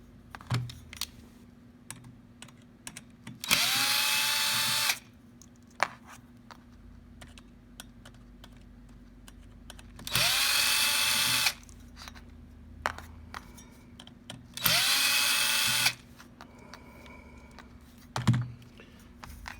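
Power drill backing screws out of a fireplace blower wheel: three separate bursts of whirring drill motor, each lasting about a second, between quiet clicks and handling noises nearby.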